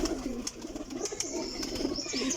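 A female flying pigeon coos softly in repeated low throaty pulses, close by, with faint chirps and rustling in the background.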